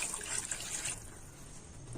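Water streams steadily into a cooking pot, a soft continuous splashing that fades slightly partway through, heard close and alone.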